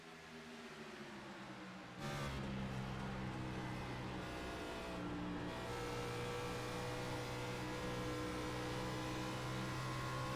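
Race cars at Dover in a Lodgebox Series race, a sustained engine drone that swells after a couple of seconds into a loud, steady roar of several cars circling the track together, heard at a distance.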